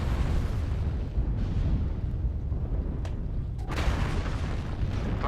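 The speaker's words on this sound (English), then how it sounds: "Artillery strike online." Rumbling, continuous artillery-strike explosions in MechWarrior Online, a dense roar of booms and bursts that keeps up loud throughout, with a few sharper cracks near the end.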